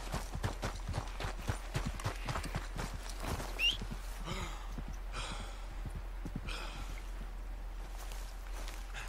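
Horse hooves clopping in Red Dead Redemption 2, a rhythmic run of steps at moderate distance, with a snort or whinny and soft breathy sounds mixed in, no talking.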